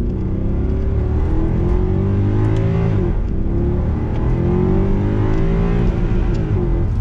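A Mercedes C63 AMG 6.2-litre V8 engine revs hard, rising in pitch, briefly dropping, then climbing again with a deep, throaty roar toward the rev limiter, loud and close throughout.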